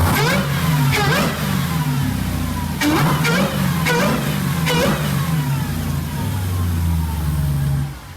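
A 2018 Jeep Trackhawk engine revs loudly again and again, rising and falling in strong bursts with a deep rumble between, close by.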